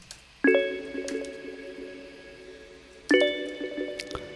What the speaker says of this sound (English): So that is a synthesizer, like an electronic keyboard making that bell sound